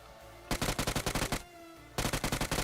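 Automatic gunfire in the BGMI video game rattles out in two rapid bursts of about a dozen sharp, loud shots each, separated by a brief pause.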